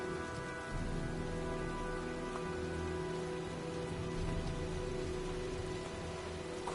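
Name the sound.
rain and storm in the video game Heavy Rain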